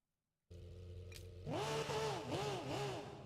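Porsche race car engine in the Rennsport racing game at Monza, starting at a steady idle, then revving loudly with rising and falling pitch sweeps as it accelerates through gear changes, close and alone.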